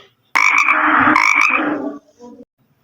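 A frog croaks loudly and close up in one sustained rasping call lasting about a second and a half, followed by a shorter, quieter croak before silence.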